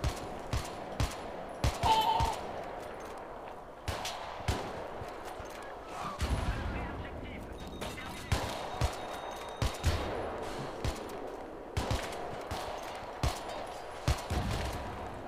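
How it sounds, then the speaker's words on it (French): Gunfire in the video game Battlefield 3, with repeated sharp shots and short bursts scattered across about fifteen seconds, moderately loud with some louder cracks, alongside occasional player speech. "Ah, on me tire dessus."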